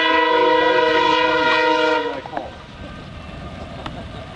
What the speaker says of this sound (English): we may just wait for that train